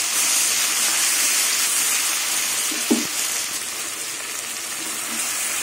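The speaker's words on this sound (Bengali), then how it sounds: "এবার পেঁয়াজ আর চিংড়ি মাছ একসাথে ভাজবো কিছুক্ষণ।" Onion and prawns frying together in a pan, a steady, bright sizzle and hiss continuing evenly throughout with one brief low knock partway through.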